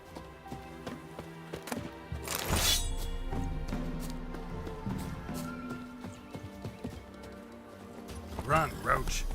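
Roach the horse galloping in The Witcher 3, rapid hoofbeats with clattering impacts and a brief crashing burst, under game music and effects.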